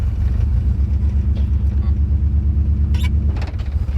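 A V8 Buick LeSabre, left sitting for 34 years, pulls away with a steady deep low rumble close by, with faint voices and brief higher noises over the engine.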